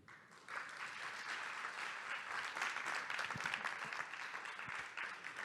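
A conference audience at a digital-technology event applauds at the end of a talk, a steady wash of many hands clapping that begins abruptly and holds for several seconds, fairly distant and even.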